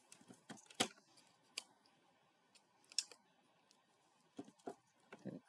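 Paper card being cut for card making, a scattered series of sharp dry snips and clicks at close range with gaps between them, with no voice heard.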